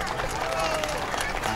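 An outdoor plaza concert crowd applauds a drummer, a dense continuous wash of clapping held at steady volume for a brief moment.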